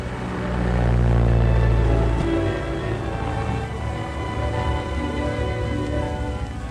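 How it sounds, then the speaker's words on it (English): A propeller airplane passes overhead above the Yukon wilderness in a 1938 film. Its engine drone swells loud, then slowly fades and holds at a steadier level. No voices are heard. "An airplane!"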